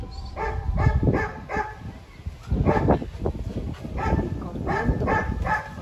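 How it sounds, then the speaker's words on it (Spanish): Several dogs bark outdoors as a storm approaches, with repeated close bursts of barking and yelps in uneven clusters, with some faint voice sounds mixed in. "los perritos están presintiendo la tormenta que les va a caer y afuera, pobrecitos"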